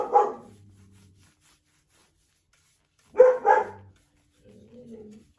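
Margot the dog barks protectively indoors, a single bark followed by a quick double bark after a pause, then a low growling whine, all close and without talk.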